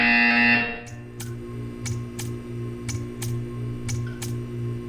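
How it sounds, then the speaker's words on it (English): A tonal electronic buzz from the game Portal 2 cuts off, followed by a steady low hum and a series of evenly spaced sharp ticks or clicks. "You will hear a buzzer."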